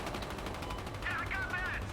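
Rapid bursts of gunfire crackle through the soundscape of Battlefield: Hardline, fairly quiet, with a continuous rattle building toward the end.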